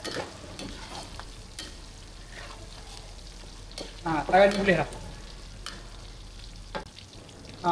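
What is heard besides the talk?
frying chopped bird's eye chilies with garlic in oil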